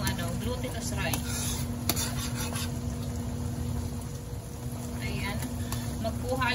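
Cooked glutinous rice tipped into a pan and stirred for biko, a Filipino sticky rice cake, giving close, steady scraping and soft sizzling with a brief voice in the background.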